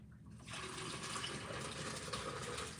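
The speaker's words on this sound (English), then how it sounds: "I'm watering my plants real quick." Water pouring steadily from a watering can or hose onto indoor house plants, a continuous close splashing and trickling that starts after a brief quiet moment and runs evenly to the end.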